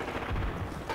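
Bursts of automatic gunfire in Call of Duty Modern Warfare, a dense, loud rattle of shots across the whole second with heavier low thumps near the middle and no talk over it.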